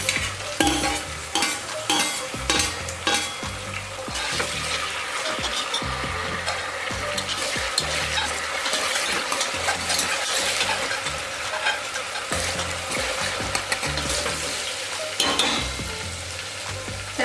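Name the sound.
onion and tomato frying and stirred in pan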